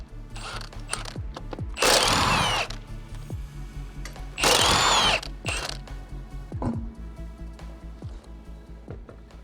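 Power impact tool spinning lug nuts off a car wheel on a Toyota GR86: two loud, close bursts of whirring and rattling hammering, each about a second long, amid clinks, ratcheting and handling noises in a workshop.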